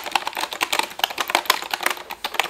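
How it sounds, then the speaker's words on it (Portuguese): Fast typing on a battery-powered wireless computer keyboard at a home work setup, a dense, close patter of crisp key clicks with no pauses. "Olha meu teclado, que lindo."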